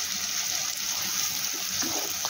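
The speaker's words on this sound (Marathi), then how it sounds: "हा कांदा आपण छान असा ब्राऊन कलर येईपर्यंत यामध्ये फ्राय करून घेणार" Onion frying in hot oil with cumin seeds, mustard seeds and curry leaves for sambar, a steady broadband sizzle that runs evenly throughout with no talking.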